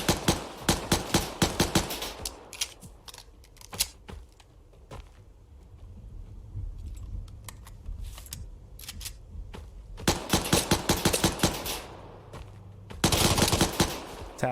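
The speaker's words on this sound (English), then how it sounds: "Tap fire the grease gun" A grease gun is tap-fired in the video game Vigor: quick clusters of short, punchy shots open and close the stretch, with quieter scattered shots, clicks and shuffling in between.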